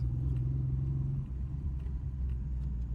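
A Subaru Justy 4WD pulls away in second gear on its first test drive, a steady low engine rumble and road noise filling the cabin with no talking.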